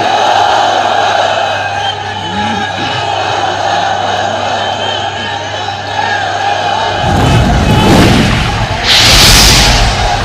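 A large crowd at an outdoor religious sermon roars a takbir in unison, answering the preacher. The loud, swelling shout rises over a droning amplified background near the end.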